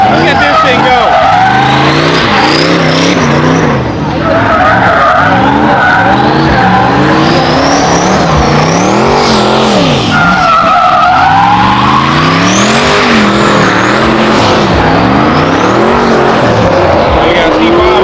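A BMW skidding at Sick Powerfest, its tires squealing loudly and continuously under a revving engine, close and sustained, with someone talking over it.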